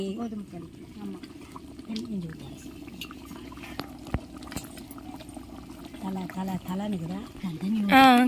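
Water is poured into an oil eggplant curry simmering in a pan, giving a soft, splashy pour beneath a person talking throughout.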